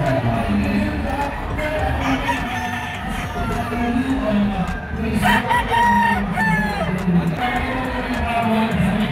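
A Sweater bloodline gamefowl rooster crowing at a crowded hobby expo, repeated crows rising over a dense murmur of crowd noise and nearby talk.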